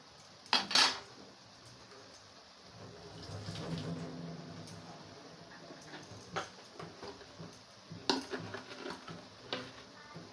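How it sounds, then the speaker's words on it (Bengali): Water spinach and potatoes cooking in a pan, with a faint sizzle under a handful of sharp metallic clinks and scrapes from the lid being lifted and the greens stirred, the loudest clatter near the start and another later. "ঢাকনিটা উঠিয়ে নাড়াচাড়া করে নেব"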